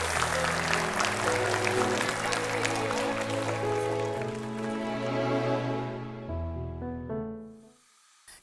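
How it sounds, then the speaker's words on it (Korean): A studio audience breaks into encouraging applause at a Korean talk show, with dense clapping blended with steady background music that fades out near the end. "우리 잘하라고 응원의 박수 한번"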